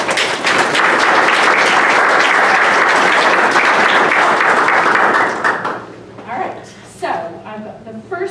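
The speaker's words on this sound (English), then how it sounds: "applause." Loud, dense audience applause fills a debate hall between Democratic candidates for Massachusetts state representative, holding steady for nearly six seconds before thinning into scattered claps as voices begin talking.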